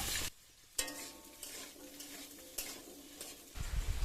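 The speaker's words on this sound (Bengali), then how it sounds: "এর মধ্যে একেবারে তেল দিয়ে আলুগুলো ভেজে নেব।" Small-cut potato pieces frying in oil in a pan, a close steady sizzle broken by a few sharp scraping stirs, with no talking.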